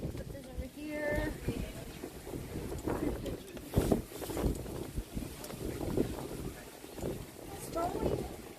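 Strong typhoon-edge wind buffets the microphone outdoors in Tainan, Taiwan, with loud, gusty low rumbles rising and falling while people talk through the noise.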